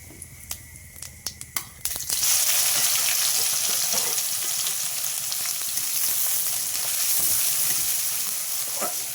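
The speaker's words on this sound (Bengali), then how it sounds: "এবার এই তেলেই দিয়ে দেবো একটু জিরে" Cumin seeds go into hot oil. A few sharp taps come first, then a sudden loud, steady sizzle and crackle that continues to the end, with no voices.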